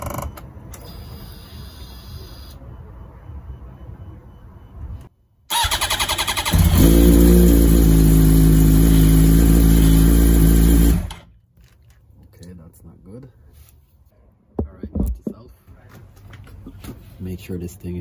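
A 2007 Yamaha R1 sport bike, just fitted with an upgraded stator and flywheel, cranks and fires up, then runs at a loud, steady idle for about five seconds before shutting off. Quieter mechanical clicks and handling sounds come before and after.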